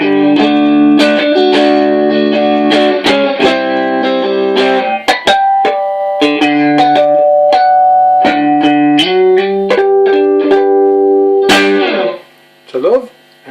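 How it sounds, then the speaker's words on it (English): Electric guitar played through an Ibanez TS9 Turbo Tubescreamer pedal set for a light, nearly clean coloring, with close, clear picked chords and single-note phrases, some long sustained notes, and a brief pause before the last few notes. "That's running into the Ibanez TS9 Turbo Tubescreamer"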